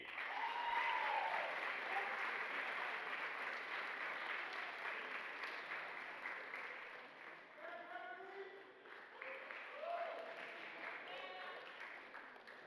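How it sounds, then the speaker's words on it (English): A room of people applauds an award winner at a sports awards night, sustained clapping that slowly thins, with scattered cheers and voices rising through the latter half. "A big round of applause for Miss Gabby Courtney."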